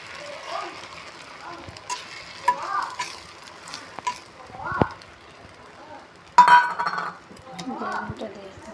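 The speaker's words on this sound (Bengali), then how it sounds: "প্রথমে একটু তেল দিয়ে দিলাম, তেল দেওয়ার পরে ডিমটা দিয়ে দেবো" An egg frying in oil in a pan gives short, intermittent sizzling bursts mixed with utensil clinks and stirring, close by, with a voice speaking softly between them.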